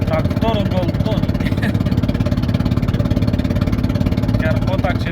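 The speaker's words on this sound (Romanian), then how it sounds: "s-a spart o bujie la motor și mașina asta încă merge în 3" A Ford car engine misfiring on three cylinders with a broken spark plug runs with a loud, rough, uneven throbbing, while people talk over it and the engine drones on steadily.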